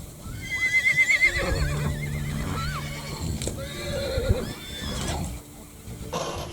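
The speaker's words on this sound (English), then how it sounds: "Here you can see scenes of mares rearing up against each other with the foals caught in between." Mares on an Icelandic blood farm rear up against each other, with foals caught between them, as several horses neigh and whinny loudly. Hooves clatter and scuffle in a noisy, crowded pen.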